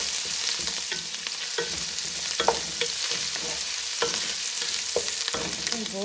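Ginger-garlic paste fries with golden onions in a pan, giving a steady close sizzle broken by repeated scraping stirs, and no one speaks.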